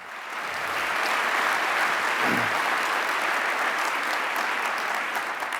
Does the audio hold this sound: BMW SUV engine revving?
no